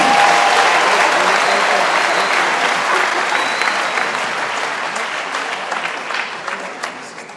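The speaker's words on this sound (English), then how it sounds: "Can you give them a good round of applause?" Sustained applause from an audience at a tribute event for living legends, a dense wash of clapping that starts loud and gradually thins and fades, with scattered louder claps near the end.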